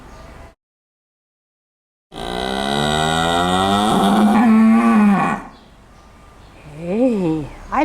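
Close up, a farm cow lets out a long, loud moo after a short silence, then a couple of quieter wavering calls.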